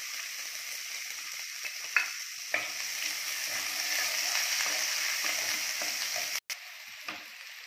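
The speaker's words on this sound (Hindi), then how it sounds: "प्याज हमने बारीक काट लिया, इसको भी डाल देते हैं इसमें।" Finely chopped onions and whole cumin seeds sizzle in hot oil in a kadai, a loud steady frying hiss broken by a few sharp clinks of stirring.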